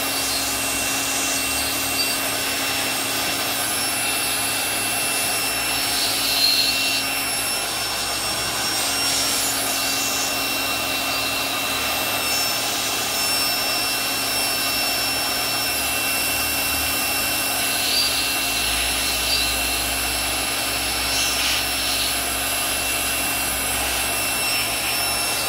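Air blower drying the burners of a gas stove being cleaned inside, a steady whooshing whine that holds without pause for the whole span, close and even.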